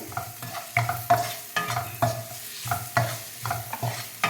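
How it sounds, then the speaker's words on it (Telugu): Fried cauliflower is stirred into rice in a pan for gobi rice, with rhythmic scraping strokes of a spatula about twice a second over a soft sizzle, close up and with no talking. "అంతా ఇట్లా కలుపుకొని ఈ గోబీలన్నీ దీంట్లోకి వేసుకోవడమే మనకి."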